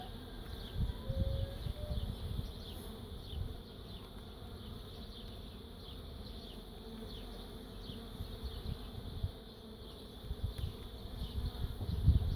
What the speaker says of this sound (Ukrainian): Це масово молода бджола